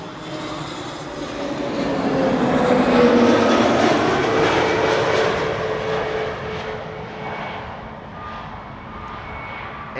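An EasyJet Airbus A320neo arrives at Amsterdam Schiphol, its engine roar swelling to a loud peak around the middle and then easing into a fading whine as it passes, with no speech.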